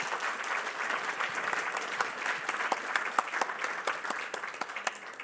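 An audience at a passenger rail summit applauds a panel, sustained clapping from many hands filling the room at a steady level without pause.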